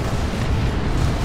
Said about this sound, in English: I hear a bunch of cannons going on